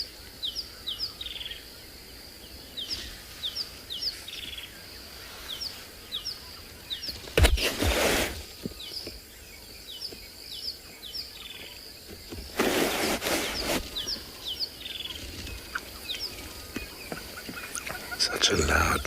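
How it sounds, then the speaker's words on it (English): A rattling cisticola, a small bird in South African bushland, repeats short rising calls against a constant hum of insects and crickets. Two loud bursts of noise briefly cover the calls. "now the rattling cisticola"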